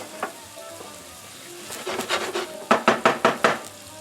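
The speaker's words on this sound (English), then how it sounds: "Mix that in well with that wine and this pasta with the butter and the garlic." Orzo pasta stirred in a pan with wine, butter and garlic for shrimp scampi, a soft sizzle building into a run of sharp rhythmic spoon scrapes and taps against the pan, close and loud, without speech.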